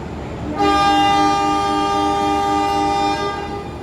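A long-distance passenger train, the Pasundan, sounds a sustained, loud horn blast that starts abruptly and holds steady for about three seconds before easing off.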